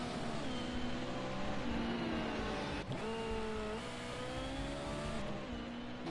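A Formula X race car laps the Snetterton circuit, its engine droning loud and steady with rising and falling pitch as it shifts gears, and one sharp dip partway through.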